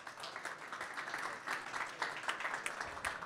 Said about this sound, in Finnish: runsaat kätten taputukset hänelle